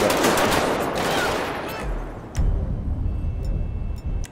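Video game gunfire in GTA V: a dense burst of rapid automatic shots and chaotic bangs fills the opening seconds, then fades, leaving low rumbling impacts and a few scattered sharp cracks.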